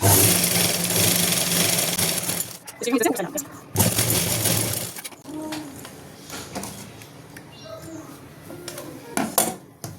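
A sewing machine runs in short, loud bursts as it stitches a full seam on an elastic-waist salwar. Someone talks between and over the bursts of stitching, with faint clinks and handling noises in the pauses.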